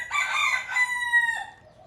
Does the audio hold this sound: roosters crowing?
yes